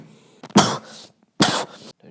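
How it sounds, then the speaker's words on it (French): Two sharp, close coughs, roughly a second apart, each a short harsh burst with quiet between. "J'ai rêvé ou vous venez de me tousser dessus là?"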